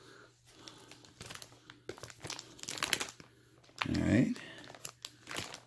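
Packaging for a Snorlax bean bag chair being opened, with bursts of crinkling and tearing plastic and one loud rustling crunch near the end, heard close up between stretches of someone talking.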